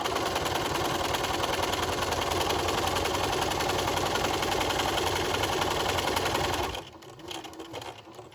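A sewing machine runs steadily, stitching a fabric face mask, a fast continuous mechanical whir lasting several seconds before stopping abruptly, followed by faint handling noises.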